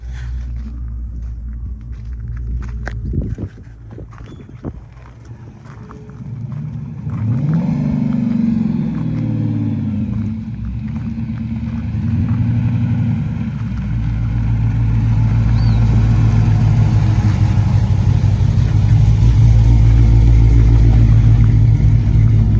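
An untuned big-cam 426 Hemi engine cranks and fires for its first start, then settles into a loud, heavy, lumpy idle rumble that grows steadily, with no talking over it.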